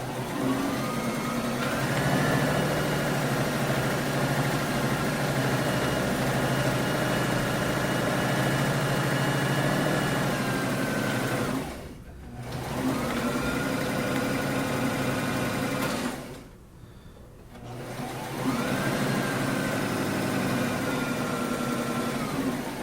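A sewing machine stitching the right side of a cardigan runs in long steady whirring stretches of motor hum, broken by two short pauses before starting again.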